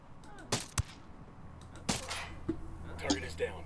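Gunfire from a firefight in the tactical shooter Ghost Recon Wildlands: a few sharp, separated shots with short echoing tails, two louder reports near the start and scattered quieter pops after, over faint background noise.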